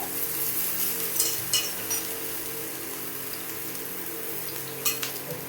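Stuffed eggplants fry in hot oil in a pan, giving a steady soft sizzle with a few light clinks of utensil against the pan.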